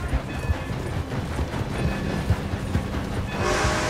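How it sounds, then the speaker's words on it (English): A steam-era train rolls by in Red Dead Redemption 2 near Rhodes, with rhythmic clickety-clack of wheels over rail joints and a rushing rumble, fairly close and steady, swelling toward the end. "Oh, we're gonna race this train"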